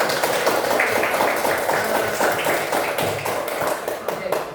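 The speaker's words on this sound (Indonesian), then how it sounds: "Kita tepuk tangan dulu." Schoolchildren in a classroom clapping hands together in a steady rhythmic burst, loud and close, with voices chanting and talking over the claps.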